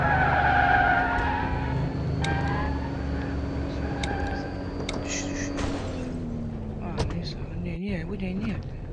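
A Ford Mustang skids in the video game Madout2, with a sustained engine drone and tire squeals under people talking, ending in a sharp skidding screech.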